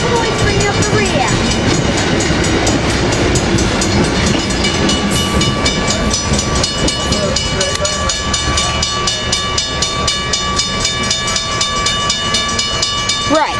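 A passenger train passes close and loud at a San Juan Capistrano station, with a steady rumble and rhythmic wheel clatter throughout. Some talk is faintly heard under the noise.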